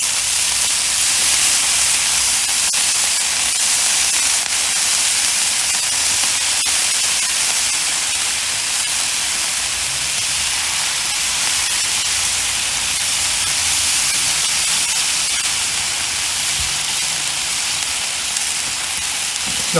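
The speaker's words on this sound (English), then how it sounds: "It's not going to take long to cook these." Shrimp frying in a pan for fried rice, a loud, dense and unbroken hiss of sizzling oil close up, continuing steadily with no voices.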